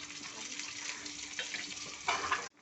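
Chopped garlic, grated ginger and green chillies frying lightly in oil, a soft steady sizzle with a brief louder spatter near the end before it cuts off.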